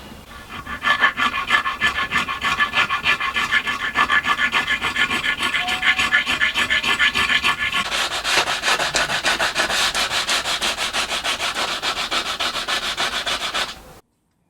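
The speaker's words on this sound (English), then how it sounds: "Let those dry and then we can file, sand and finish that." A wooden guitar neck is filed and sanded by hand with continuous rhythmic rasping strokes, close and fairly loud. The scraping grows brighter and denser partway through and stops abruptly at the end.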